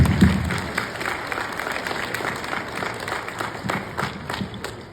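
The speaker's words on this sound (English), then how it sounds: "I say thank you and give you a round of applause for that" Applause ripples through an outdoor crowd at a 5K event speech, moderate and scattered claps continuing steadily over ambient noise.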